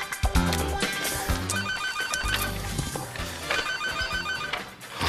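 A telephone rings loudly and continuously in a comedy sitcom scene, its repeated trilling bell pattern filling the whole stretch over a busy background.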